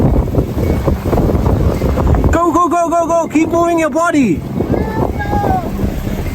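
Strong wind buffets the microphone on a mountain summit in New Zealand's Coromandel, a steady roaring rush throughout, while a voice loudly urges someone on over it.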